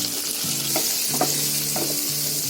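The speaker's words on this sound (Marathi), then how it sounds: "आपलं असं फ्राय करत राहायचं, असं चांगलं ढवळत राहायचं." Onion, capsicum and spices frying in a pan while being stirred, a loud steady sizzle with a few soft scrapes, close up and without talking.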